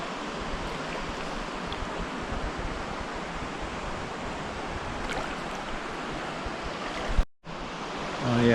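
A river on Vancouver Island, Canada, rushes in a steady, full broadband wash close to the microphone, with a brief dropout of sound near the end before the flow resumes.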